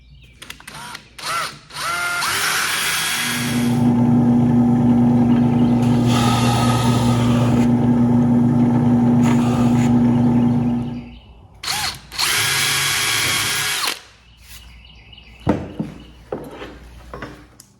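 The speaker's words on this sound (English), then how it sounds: "I'll drill some pilot holes for the bracket for this" A power drill drills pilot holes for a bracket in long loud bursts, whining steadily for several seconds, then stops, followed by shorter bursts and clicks of handling.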